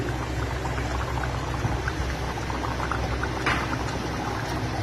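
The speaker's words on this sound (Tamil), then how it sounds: "இப்போ நம்ம கிரேவி நல்லா கொதிச்சு எண்ணெய் பிரிஞ்சு வந்துச்சு" Channa masala gravy bubbling in a covered pot on the stove, a steady soft simmer with faint popping, close by and continuous, no voices.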